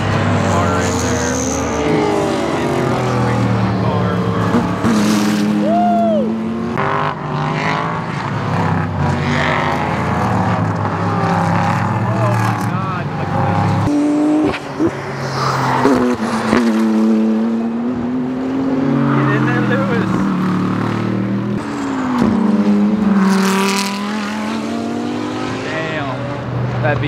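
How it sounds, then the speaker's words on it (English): A V10 race car at the Mid-Ohio circuit during an IMSA Lexus Grand Prix weekend, its engine note rising and falling as it passes, loud and continuous under crowd chatter and nearby voices. "there's a race car right there"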